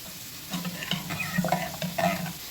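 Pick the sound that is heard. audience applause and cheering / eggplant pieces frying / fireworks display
eggplant pieces frying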